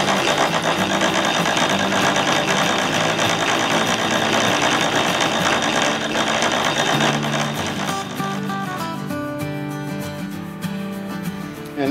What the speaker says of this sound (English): And then you spool it.